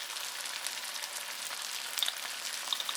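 Chopped garlic fries in a pan with a bright, crackling sizzle heard close up, with small sputtering pops scattered throughout.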